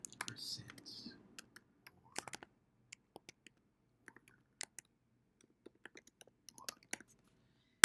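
Sparse keyboard keystrokes click faintly and irregularly in a quiet room while notes are taken, with a short stretch of soft talk at the start.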